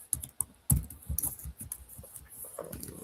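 Quick bursts of keyboard typing, a handful of clicky keystrokes in uneven rhythm, close to the microphone.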